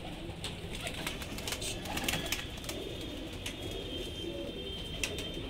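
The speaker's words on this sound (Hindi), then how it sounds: "तो सर ये छठे हुए कबूतर हैं" Punjabi pigeons of a Krasni bloodline coo steadily in a loft in Indore, a soft continuous murmur of overlapping calls with occasional sharper chirps and wing flutters, moderately close.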